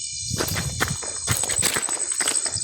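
Horse hooves clip-clop in a broken, uneven rhythm on an outdoor mountain trail, fairly close and moderately loud, with a steady high whine running underneath.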